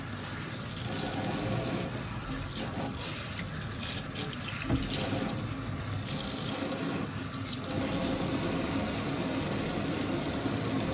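Tap water runs steadily over a non-surgical hair replacement system as it is rinsed of glue and tape residue. The close, continuous splashing gush shifts slightly as the piece moves under the stream, with no talking.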